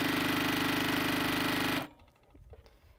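A sewing machine stitching a quilt runs loud and close in a fast, steady mechanical rattle, then stops abruptly, leaving faint handling sounds.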